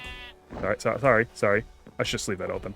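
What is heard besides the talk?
sheep bleating in the video game Minecraft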